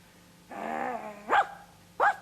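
A person imitates a dog with a drawn-out growl and two short, sharp barks, close and clear in a quiet room.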